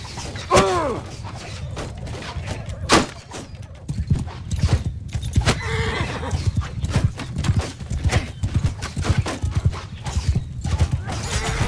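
Horses in a Mount & Blade 2 Bannerlord battle clatter along in loud, dense clip-clop hoofbeats with heavy thuds, a whinny early on and clashing mechanical noise, continuous and close for nearly twelve seconds.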